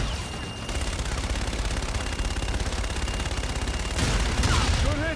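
Rapid automatic gunfire from a Call of Duty Infinite Warfare campaign battle: dense, loud, continuous bursts rattle without pause and swell even louder toward the end.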